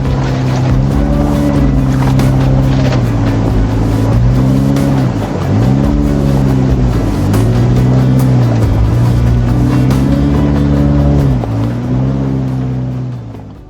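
A car engine labours on a rough, rocky mountain road between Skardu and Astore via Deosai National Park, a loud close drone rising and falling in repeated revving surges as it strains over the terrain.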